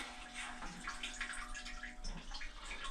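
A bidet toilet seat sprays water in pulsating mode, a steady hissing spray throughout, broad and continuous with slight fluctuations, close by and fairly loud.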